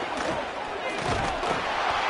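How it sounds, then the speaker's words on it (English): A packed stadium crowd roars steadily in a college football video game, a dense, continuous wash of cheering with a commentator's voice over it. "This crowd trying to show them what it's going to be like all day in this house."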